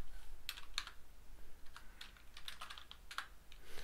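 Keys clack on a computer keyboard during a session of the adventure game The Colonel's Bequest. The bursts of keystrokes are irregular and fairly close, with a low hum underneath and no speech.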